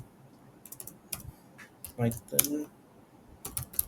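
Computer keyboard keys click in short irregular bursts of a few strokes each, close and fairly quiet, as a command is typed, with a soft voice speaking briefly in between.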